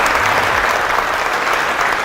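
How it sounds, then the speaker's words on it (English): A live audience at a motivational talk breaks into dense, sustained applause, loud and steady throughout with no pause. "thanks for the claps"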